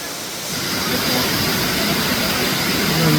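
Tumalog Falls roars nearby, a loud broadband rush of falling water that fills the whole clip with a dense, steady hiss and swells slightly toward the end, with faint voices mixed in.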